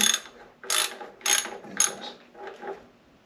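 A screw is driven in during reassembly, heard as about five close, loud bursts of ratcheting clicks separated by brief pauses, with no talking.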